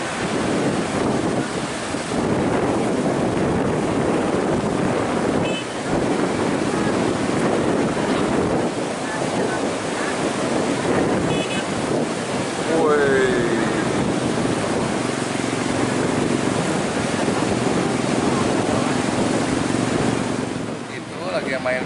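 Big ocean waves roll and crash continuously at Pangandaran beach, a broad, loud wash of surf mixed with strong wind buffeting the microphone throughout.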